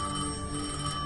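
A long-distance telephone ringing with a steady electronic bell tone, fairly quiet and heard alone with no talk.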